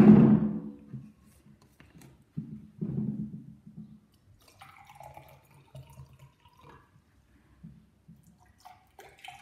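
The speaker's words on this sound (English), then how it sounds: "Now let's add some water." Tap water splashes and trickles in short pours into glasses, close by and fairly quiet, with faint clinks and small drips between pours and no voices.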